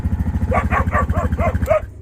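Dogs barking in a rapid series of about six sharp, close barks at a steady rhythm, loud and alone with a low rumbling hum beneath them, stopping abruptly at the end.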